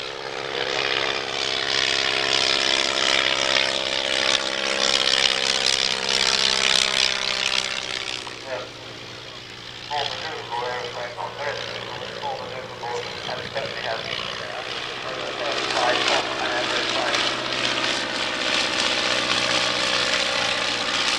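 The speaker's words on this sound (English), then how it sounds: "the Avro triplane flew to mark the 90th anniversary of A.V. Rowe's first design" A fragile replica Avro triplane, built for a period flying film, drones overhead at a 1999 British airshow, its propeller engine a steady loud hum with slowly shifting pitch as it passes, a brief dip midway.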